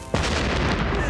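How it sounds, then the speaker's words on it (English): A cartoon cannon aboard a ship fires one loud, close blast that roars on with a long, dense rumble. "Second cannon! Fire!"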